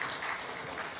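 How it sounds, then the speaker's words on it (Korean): A church congregation at a Wednesday prayer meeting clapping together, a dense, even wash of many hands heard from a little distance, steady for the whole second with no voices on top. "옆에 수고했다고 박수 한번 줄까요?"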